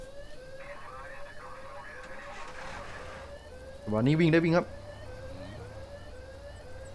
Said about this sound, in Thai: เฮ้ยรถตำรวจมาแล้ว